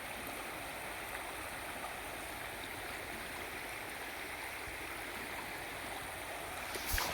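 Floodwater pours across a submerged farm field after heavy rain, a constant, even rushing hiss that holds unchanged throughout with no voices.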